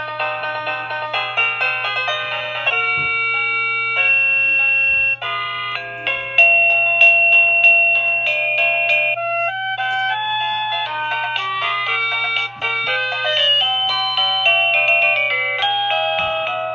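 A Boomile wireless doorbell plays a long run of electronic chime melodies, bright and loud, cycling through several tunes with a steady low hum underneath.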